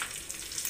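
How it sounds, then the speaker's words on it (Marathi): Cumin, mustard seeds and curry leaves crackle in two spoons of hot oil with a small green chilli, a brief, close, dense sizzle with rapid popping. "जिरे, मोहरी, कढीपत्ता छान तडतडून द्यायचं आहे"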